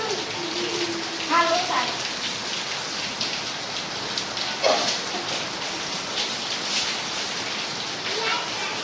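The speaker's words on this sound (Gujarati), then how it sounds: "અમારો વરસાદ પાછો ચાલુ થઈ ગયો છે" Heavy monsoon rain pours steadily at night outside a house, a dense continuous hiss of drops hitting surfaces, with a few brief voices rising over it.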